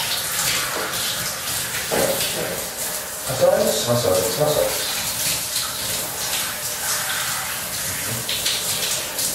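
Shower water runs steadily as a broad, continuous hiss throughout, with a person speaking over it in German in the middle of the clip.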